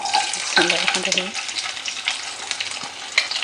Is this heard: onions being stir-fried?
yes